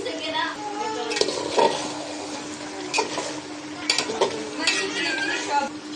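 Beef sizzling and stirred in a pan as potatoes go in, a steady hiss broken by scraping and clattering of a spoon against the cookware.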